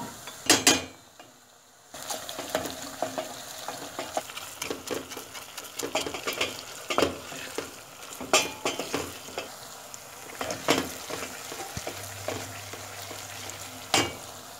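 Onions frying in a pan with tomato and pepper paste being stirred in, a steady close sizzle broken by scraping utensil clatter and brief bursts, with no talking.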